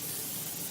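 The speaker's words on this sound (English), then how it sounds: "I'm going to just spray a little Pam on my pan." Pam cooking spray misted onto a baking pan, one short steady hiss lasting under a second, close and fairly loud.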